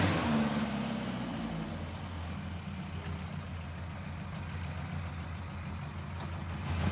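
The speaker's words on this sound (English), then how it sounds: "Listen to that ST170 lump sing." A Ford Cortina fitted with an ST170 engine and bike carbs runs steadily, a dense, rough, continuous engine rumble heard up close with no talking over it.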